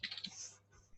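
Brief, quiet burst of computer keyboard typing while entering a command in a terminal, a few quick light clicks close to the microphone followed by a soft trailing tap.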